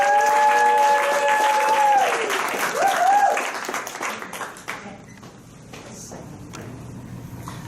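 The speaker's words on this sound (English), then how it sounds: "Let's give everybody a round of applause." An audience at a pitch-training talk claps in a full round of applause that is loud at first, then thins into scattered claps and fades, with some voices mixed in.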